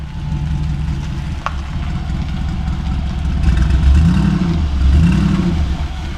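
Car engine running with dual exhaust, recorded up close: a loud, steady low rumble that swells slightly as the revs rise and fall, with a brief click partway through.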